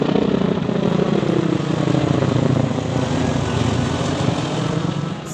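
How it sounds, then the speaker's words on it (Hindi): A helicopter's continuous engine drone with a rapid chopping pulse, passing fairly close over the PAF Museum in Karachi, Pakistan, loud and steady before easing slightly at the end. "आप लोग देख सकते हैं ये हेलीकॉप्टर आ रहा है या जा रहा है"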